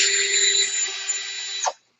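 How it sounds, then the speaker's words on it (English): Power drill spinning a bit through PVC plastic for an aquaponics build, a steady close whining buzz that runs for over a second and a half before winding down abruptly. "if you just reverse your drill when it's a drill bit like this"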